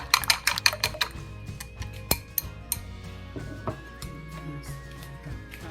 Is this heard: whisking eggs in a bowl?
yes